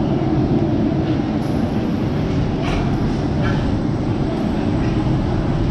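An amusement park ride train at Busch Gardens rumbles steadily along the track with constant low roaring noise and faint metallic squeaks, heard from inside a moving car.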